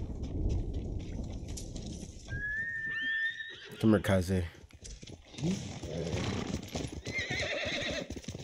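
Horses in the video game Ghost of Tsushima give a high, wavering whinny, followed by a burst of clattering hooves and snorts, while someone talks over much of it.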